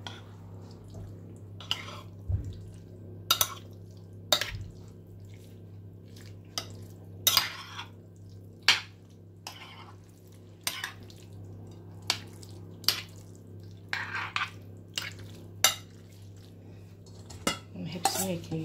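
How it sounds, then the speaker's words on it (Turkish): A spoon clinks against a bowl of pasta salad with yogurt in irregular bursts of sharp taps and scrapes, close by, over a low steady hum, with no talking. "Karıştıralım."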